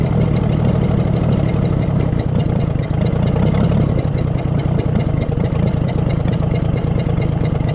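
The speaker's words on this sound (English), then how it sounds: "it's sitting here not running too awful bad, considering all the junk parts I still have on it" A scrapyard Oliver Super 77 tractor engine with a poor carburetor and manifold runs, a loud close steady chugging idle with a rough, slightly uneven beat and no talk.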